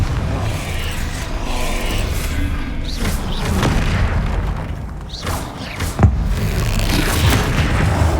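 Spell blasts in the Hogwarts Legacy video game during a fight with a troll: heavy booms over a busy battle din, with one sharp thud standing out near the end.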